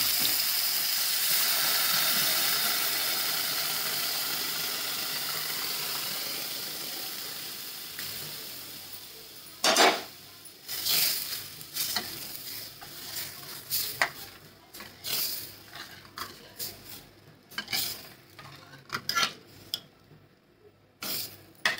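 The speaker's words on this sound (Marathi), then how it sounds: "शिजलेली डाळ टाकते आता याच्यात" Cooked dal goes into a hot pan of red chilli powder and goda masala for tamarind-jaggery amti. Steady sizzling hiss at first, then a string of sharp spatters and stirring scrapes as the lentils hit the pan, with no talk.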